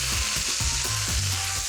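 Boiled gnocchi dropped into olive oil in a hot pan, frying with a loud, continuous sizzle and a few soft stirring movements, close up with no talking.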